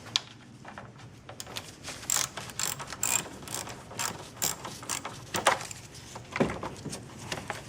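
A car battery terminal is loosened and pulled off on a 2003 Honda Accord V6, heard as close ratcheting clicks from a wrench followed by light metallic clinks and scrapes, with no talking.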